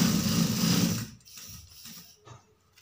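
A sewing machine stitches a side pocket, running loud and fast for about a second before slowing and stopping, followed by a few quieter mechanical clicks and knocks.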